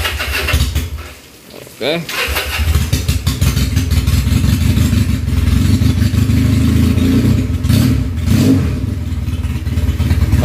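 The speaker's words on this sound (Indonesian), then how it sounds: "Mesinnya udah hidup bro." A Benelli Patagonian Eagle 250cc motorcycle engine catches with a short rising rev, then settles into a steady, loud idle that runs close by for the rest of the time. Someone speaks briefly over the engine.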